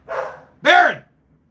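A dog barks close by in two loud bursts, the second stronger and more tonal, with no talk over it.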